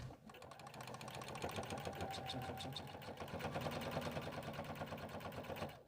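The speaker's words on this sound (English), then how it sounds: "we need to step to our machine and we're going to sew a top stitch down both long sides just for a nice finished look" A sewing machine top-stitches the long sides of a fabric tab for a bag, a steady, close, rapid mechanical whir and needle patter lasting throughout without pause.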